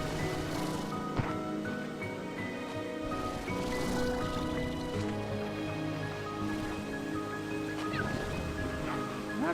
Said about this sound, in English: Also, it's raining, so that helps us.